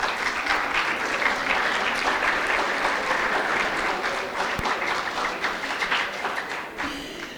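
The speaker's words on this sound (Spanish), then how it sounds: "un fuerte aplauso para mí" Dense, steady audience applause fills a cybersecurity camp event hall, many hands clapping continuously at close range and tapering slightly near the end.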